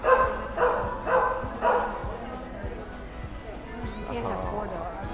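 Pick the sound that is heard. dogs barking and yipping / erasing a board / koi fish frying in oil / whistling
dogs barking and yipping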